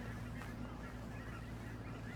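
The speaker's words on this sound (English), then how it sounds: "Yeah, there's a lot of seagulls out here." Seagulls call at an outdoor park, faint and distant, their cries half buried in steady wind and background noise.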